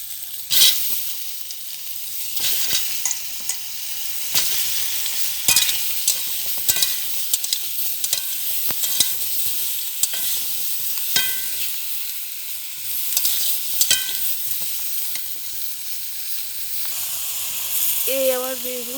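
Eggplant slices fry in smoking-hot oil in a wok, giving a loud, continuous sizzle and hiss broken by sharp clatters of stirring. Near the end, a brief tonal whine rises.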